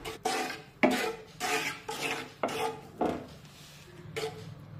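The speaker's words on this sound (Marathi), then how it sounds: "तर 2 ते 3 मिनिटे हे मिश्रण आपण सतत हलवून घेऊया" A warm ghee and jaggery mixture for gul papdi is stirred in a pan with a spoon, which scrapes and clinks in repeated strokes, close and fairly quiet.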